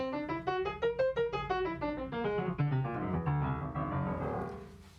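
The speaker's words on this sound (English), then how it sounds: "a whole tone scale is a scale just made up of tones" A bright instrument plays a rising whole tone scale of evenly stepped notes, then descends, each note struck cleanly in a steady rhythm, close and moderately loud.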